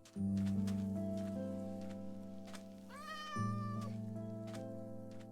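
In Minecraft, a cat gives a single clear meow over steady, sustained background tones, with faint pattering ticks throughout.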